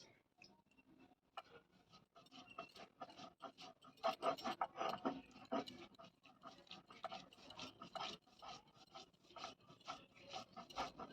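Poppy seeds are ground with a little water on a flat grinding stone, giving soft, repeated rasping and rubbing strokes in a steady back-and-forth rhythm, close and fairly quiet, with no talk.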